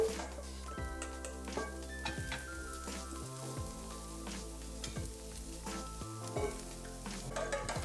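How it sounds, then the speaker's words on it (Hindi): Ginger, green chilli and chopped vegetables sizzle steadily in hot desi ghee, a close, continuous fry with occasional clinks and stirring scrapes, no talking. "तो जैसे ही घी गर्म हुआ उसमें गई अदरक और हरी मिर्च, और अब ये गई सब्जी"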